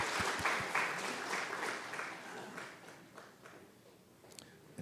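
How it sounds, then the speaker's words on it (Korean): Congregation clapping during a Sunday morning church service as children walk up front, a dense burst of many hands that stays fairly steady and gradually thins out, with faint voices underneath. "우리 이쁜 친구들 나올 때 우리 한번 박수하겠습니다."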